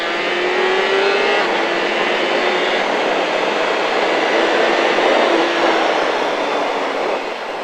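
A race car accelerates on the Le Vigeant circuit, its engine a loud, steady high-revving roar held close to the microphone, with a slight pitch rise and no voices over it.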